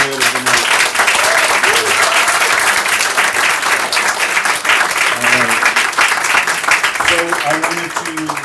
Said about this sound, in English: a round of applause for our final bullet of the night